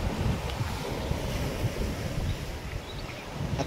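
Sea waves at high tide wash steadily onto the Bamangad shore on the Guhagar coast, a continuous surf roar with wind buffeting the microphone throughout.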